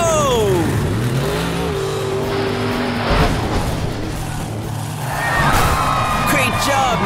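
A cartoon monster truck revs its engine and roars off, the pitch sweeping up and down through several surges, with squealing tires and loud, close, accelerating whines.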